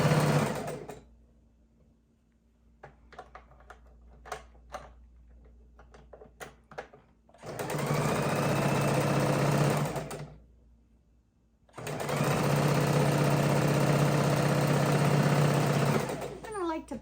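A sewing machine stitching a baby quilt border, starting with a few slow, separate needle clicks, then two long runs of fast, steady, loud stitching divided by a brief pause, with a low hum underneath.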